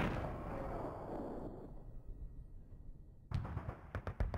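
A tank shell bursts on impact with a loud, booming blast that rumbles and fades, followed by a rapid string of sharp, close cracks and pops.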